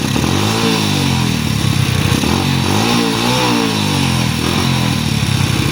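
A scooter engine struggling to start sputters and revs unevenly, its pitch rising and falling as it labors to catch, loud and close with a rough clattering tone.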